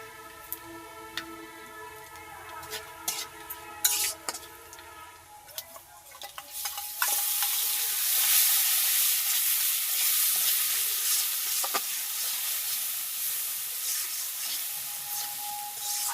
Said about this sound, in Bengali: তো মশলাটা ভালোটিও কষাই নেবো